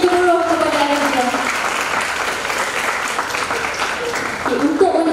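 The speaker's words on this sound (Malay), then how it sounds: "Berikan tepukan yang gemuruh kepada ayah beliau." Audience applause for a speaker's father at a women's technical entrepreneurship forum, a steady roar of many hands clapping throughout, with a voice speaking over the start and returning near the end.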